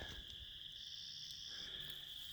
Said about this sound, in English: Yeah, there's a wood frog.